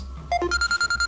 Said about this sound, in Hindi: बेल हो रही। बेल की आवाज, ये आवाज कहाँ से आ रही है?